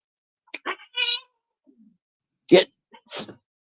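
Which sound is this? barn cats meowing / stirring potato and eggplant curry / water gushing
barn cats meowing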